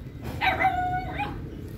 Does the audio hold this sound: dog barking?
yes